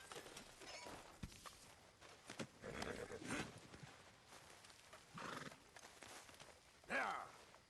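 Hooves clip-clop on ground as a horse moves about in Red Dead Redemption 2, with a couple of whinnies and snorts, fairly faint and irregular.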